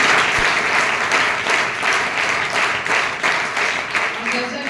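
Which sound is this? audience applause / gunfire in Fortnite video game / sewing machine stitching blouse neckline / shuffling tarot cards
audience applause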